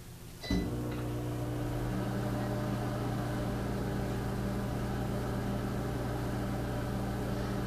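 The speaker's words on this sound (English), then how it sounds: "I'm going to put the timer on my microwave for a minute." A click, then a microwave oven hums steadily with a constant low drone that carries on without a break.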